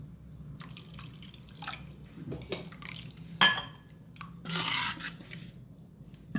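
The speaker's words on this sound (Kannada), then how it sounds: "ಇನ್ನೊಂದು ಲೋಟದಷ್ಟು ನೀರನ್ನು ನಾನು ನೋಡಿಕೊಂಡು ಹಾಕ್ತೇನೆ" Water poured into a thick jamun fruit dosa batter, giving soft dripping and splashing bursts, loudest around the middle and near the end, close by in a quiet kitchen with no talk.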